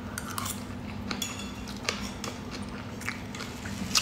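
Someone eats close to the microphone during a live stream, with soft biting and chewing sounds mixed with light clinks of cutlery against a dish, steady and unaccompanied by talk.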